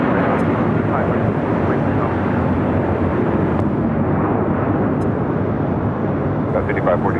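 A United Boeing 757 roars on takeoff at LAX, a loud, dense, continuous jet rumble filling the whole stretch, with faint radio chatter mixed in.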